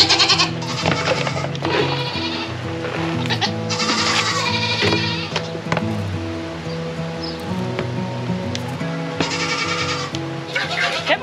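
Goats and hungry kids bleat in a barn at milking time, with repeated loud, overlapping calls close by amid rustling and shuffling.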